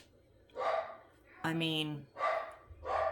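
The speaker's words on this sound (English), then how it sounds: "Sorry about the dog." A dog barks indoors, four distinct woofs spaced apart, one longer and more tonal, sounding fairly close while a person speaks briefly between them.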